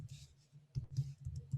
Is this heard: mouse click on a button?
yes